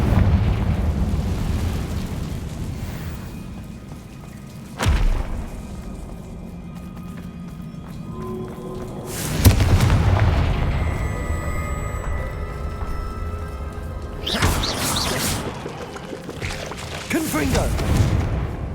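Confringo blasting-spell explosions in Hogwarts Legacy, several sharp bursts spaced seconds apart, each followed by rumbling debris over a low ambient bed.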